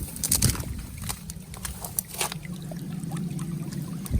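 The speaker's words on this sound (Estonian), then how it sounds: "Lihtsalt surub siit kivide vahelt vett läbi ja kõik see vesi läheb, kõik see tammi alumine osa ja tuleb niisuguse kosena siit" Water forced between the stones of a wide compacted dam at Väinatamm, trickling and spilling down in a steady close rush with small splashes, no voices.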